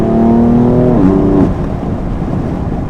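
BMW M4 F82 with its 431 hp engine, loud steady drone with a rising harmonic tone that shifts around one second as the exhaust valves open, then a rougher, lower rumble continuing to the end.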